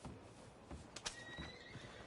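A horse in Red Dead Redemption 2 whinnies loudly with a rising, shrill cry, mixed with a few hoof clops and some background scuffling.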